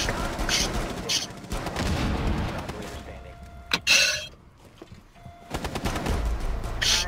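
Gunfire in a shooter game, with bursts of rapid automatic shots, a sharp single crack and a loud boom, close and harsh, broken by brief quieter gaps, while a voice talks faintly in the background.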